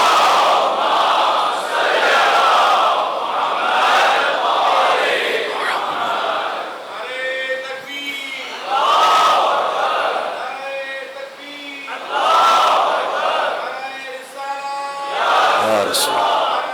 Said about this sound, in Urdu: اتنے مومنین ہیں نام حسین پر ایک اور مل کے بلندر صلوات بھیجیں